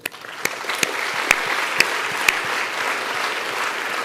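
A roomful of guests claps at a motorsport awards dinner for the F1 in Schools Australian national final, with sustained close applause and a few sharp individual claps standing out.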